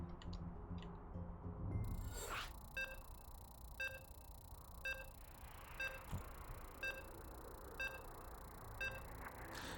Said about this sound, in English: You can hear the countdown, you can hear the beeps.